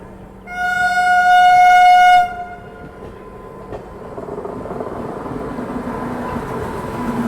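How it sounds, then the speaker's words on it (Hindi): A Kalyan-shed WAP7 electric locomotive hauling the Tirukkural Express at Agra Cantt station sounds a loud, sustained horn blast for about two seconds, followed by the rolling rumble of the passing train. "कल्याण WAP7 के साथ तिरुकुरल एक्सप्रेस।"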